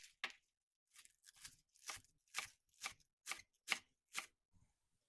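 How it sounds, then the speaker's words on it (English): A knife chops kale on a cutting board for vegetable soup, giving about nine crisp, evenly spaced strokes up close, each a short crunchy slice with quiet gaps between. "I'm going to chop up some kale because we're going to stir that in at the end"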